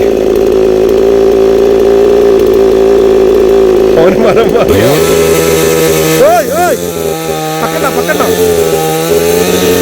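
A chainsaw cutting a coconut tree runs loud and close, its engine droning steadily and then bogging and revving as it bites into the trunk, with people talking over it.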